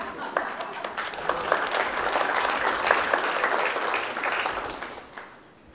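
Audience applause for John, a speaker at a talk, rising quickly into a lively crowd of clapping hands with sharp individual claps standing out, then tapering off near the end, with some voices mixed in.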